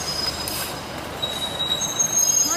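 A Class 153 diesel train's wheels squeal at Penzance station: a sustained high metallic screech with thin whining tones over a steady rumble, holding close and fairly loud for the whole stretch.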